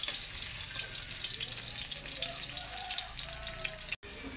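Sliced onion fries in a pan with a continuous, bright hissing sizzle, loud and close, with no talking.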